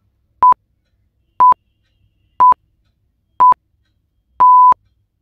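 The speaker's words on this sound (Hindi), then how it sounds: "आपका टाइमर शुरू होता है अब" A quiz countdown timer sounds five evenly spaced electronic beeps about a second apart, the last one held longer, crisp and loud against silence.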